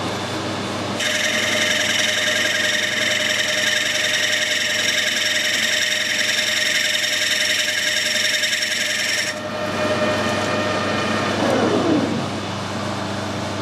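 A piece of plastic is machined with a single cutting pass across it, giving a loud, continuous high-pitched squeal over the machine's steady hum for about eight seconds before the squeal stops and the motor runs on alone.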